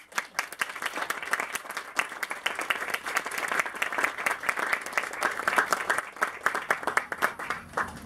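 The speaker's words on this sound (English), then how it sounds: "I think we owe him just a quick round of applause" A crowd at a grand opening for the Urban North contemporary, energy-efficient subdivision applauds the designer, with steady, dense clapping that holds at an even level for several seconds and then begins to thin out.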